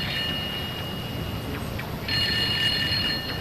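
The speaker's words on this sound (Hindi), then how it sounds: "ओए, फोन उठाओ जल्दी से," A telephone rings in a Hindi-dubbed Perman cartoon, with high electronic ringing tones in short bursts that grow louder over a continuous noisy background.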